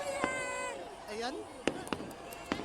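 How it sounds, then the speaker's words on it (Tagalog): New Year countdown fireworks in Kuwait crack and thump in sharp, separate bangs over a bustling crowd, with voices talking and cheering nearby throughout. "Ayan po yung fireworks display."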